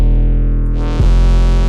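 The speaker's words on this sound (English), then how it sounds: "we've got the fry knob, which just does ridiculous distortion" An FL Studio 808 bass note is driven hard through the stock fry-knob distortion, holding a loud buzzing, harmonic-rich tone that shifts abruptly about two-thirds through as the sound thickens and keeps sustaining.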